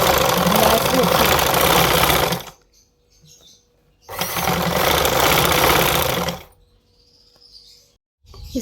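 A sewing machine runs stitch lines along a frill for a girl's frock: two steady bursts of fast whirring and clatter, each about two seconds long, separated by a quiet pause.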